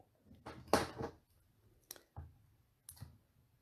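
Scissors snipping off excess thread on a quilt appliqué: a few quiet, close, crisp clicks spaced apart in a near-silent room.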